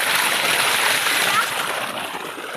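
Water rushing and splashing in a steady, loud flow, pouring into a flooded rice field, filling the whole moment.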